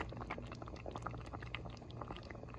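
Peach jam boiling in a pot, soft, close bubbling and popping in a dense, irregular patter, fairly quiet and with no talking.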